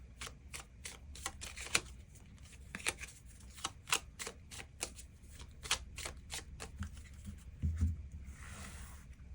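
Tarot cards being shuffled and drawn, a quick series of soft, crisp riffling clicks and flicks, close and quiet, with no voices.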